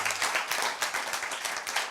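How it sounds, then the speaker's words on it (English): A small audience at a positive-mindset talk claps for a speaker, distinct individual hand claps in a fairly quick, uneven rhythm, close and moderately soft. "Let's clap for him once more again."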